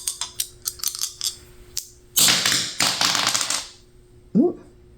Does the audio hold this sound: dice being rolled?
yes